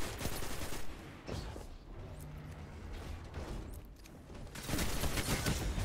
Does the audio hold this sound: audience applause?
no